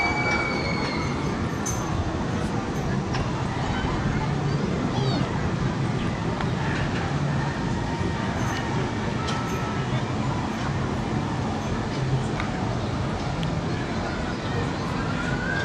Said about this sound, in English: You got this monorail here